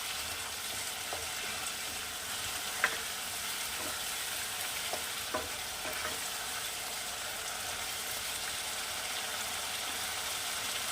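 Spice paste for a Bengali folui fish curry frying in a pan, a steady broadband sizzle running throughout with a few faint clicks of stirring, no voices.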